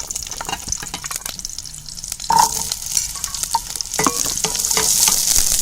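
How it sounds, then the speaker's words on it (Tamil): Small onions frying in oil for vegetable kurma, a close, bright, steady sizzle that grows louder toward the end, broken by occasional scrapes and stirs of a spatula in the pan. "இப்போ இந்த குழம்புக்கு தேவையான சின்ன வெங்காயத்தை வணக்கிக்கலாம்."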